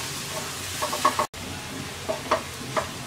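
Chopped onion, ginger and garlic lightly frying in a pan for a spinach and chana dal, a soft close sizzle broken by a few sharp stirring clinks and one brief silent gap.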